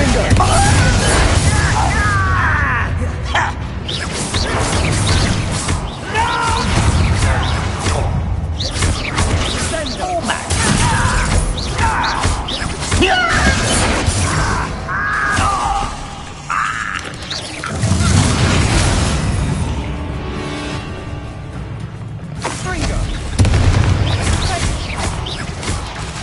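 Blasts from the Confringo explosive spell during a wizard duel in the video game Hogwarts Legacy, heavy booms and crashes mixed with game effects and frequent spoken lines and spell incantations.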